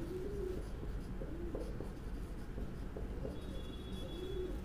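A pen scratches out a math equation on paper in soft, continuous strokes under faint background noise, with no talking.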